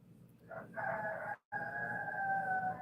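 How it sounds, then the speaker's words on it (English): A rooster perched on a porch railing crows loudly and close by, one long drawn-out call broken by a brief gap, then continuing steadily to the end. "Oh, there's the rooster."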